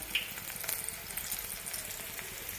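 Onions and spices frying in oil in a pan for a potato and capsicum masala, a steady soft sizzle with light crackles, close and fairly quiet, no talking.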